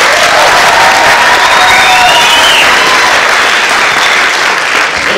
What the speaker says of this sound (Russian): ребята, давайте все вместе похлопаем